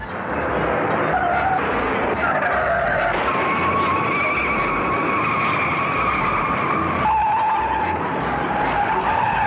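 Stock cars pile into each other in a multi-car crash at the 1960 Daytona 500 NASCAR race, loud continuous engine roar and skidding tyre squeal with shifting pitch, dense and close with no talk.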